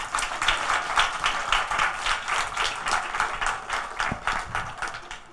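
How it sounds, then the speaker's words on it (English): Audience applause at a student graduation ceremony at a Sathya Sai community center in Jersey City, a steady burst of many hands clapping that fills the room and carries on without a break. "please give a round of applause for this artist"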